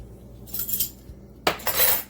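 Spoon stirring a teaspoon of cinnamon into apple pie coffee cake batter, giving a few short scraping clinks against the bowl in two brief bursts with a quiet pause between.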